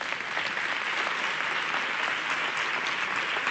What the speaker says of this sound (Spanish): pido un aplauso para ellas